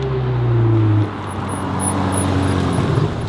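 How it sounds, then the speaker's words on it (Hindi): Engines of a Ferrari and an Audi R8 set up for a drag race: a loud, steady idle hum that drops in level after a second, then settles into a lower, continuous rumble with no talk. "अभी भी आपके पास टाइम है, गाड़ी की आवाज़ सुनो।"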